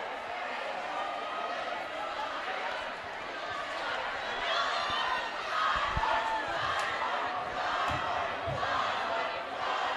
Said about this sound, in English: The Viking crowd and the North Valley crowd now fighting each other, taunting each other.